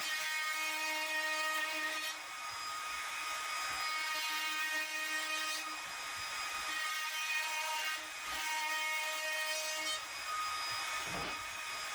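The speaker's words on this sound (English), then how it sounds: "I'm using my handheld router to round over the edges." A handheld router rounds over wooden edges with a steady high-pitched whine, cutting in repeated passes separated by brief dips, moderately faint and with no voices.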